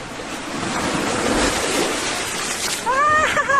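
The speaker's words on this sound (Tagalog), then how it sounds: "Lakas ng agos." Strong water current rushing along a slippery path outside Bantay Abot Cave, a steady, loud broadband roar of flowing water and surf with wind buffeting the microphone, and a brief high whistling tone near the end.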